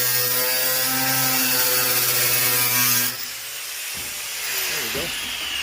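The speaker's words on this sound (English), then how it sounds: "let's see if we can finish this up with our cutoff wheel here" A cutoff wheel cuts through metal on a 1966 Corvair Corsa street rod build, a loud steady whine for about three seconds that then winds down, with brief handling noises afterward.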